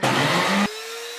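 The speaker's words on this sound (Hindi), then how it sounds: "अब हम इसको थोड़ी देर के लिए चला देंगे मशीन को।" An electric blender runs briefly, mixing eggs with vinegar, sugar and salt for homemade mayonnaise: a loud, close whirring burst that cuts off sharply, leaving a thin fading hum.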